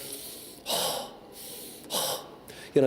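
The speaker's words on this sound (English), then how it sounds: "So breathing in through your nose" Two distinct breaths drawn in through the nose during a vocal warm-up, each a close, airy inhale about a second apart, with a short voiced sound right at the end.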